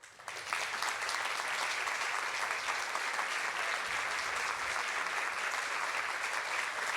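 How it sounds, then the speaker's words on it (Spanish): A congress audience applauds after a speaker is introduced, steady dense applause from many people, heard from a distance and holding evenly for about seven seconds. "la primera oradora nuestra, que le pido que la recibamos con un fuerte aplauso, es de Olinda Carrizo"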